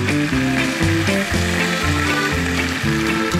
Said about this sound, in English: once you've got your bacon and everything sizzling